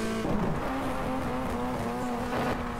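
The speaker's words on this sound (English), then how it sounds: "You can hear that Clio engine roaring." A Clio touring car in rFactor2 roars through the gears with a steady engine note and brief shifts, the onboard sound loud and continuous with no voices.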